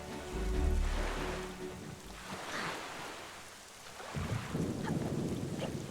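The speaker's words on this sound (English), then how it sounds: "Because it's raining." Rain and thunder in Zelda: Wind Waker HD, heard as a steady wash of rain over deep rumbling swells that rise and fall, with a heavy low roll near the start and again toward the end.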